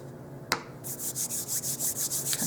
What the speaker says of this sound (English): Rub cornstarch over my hands.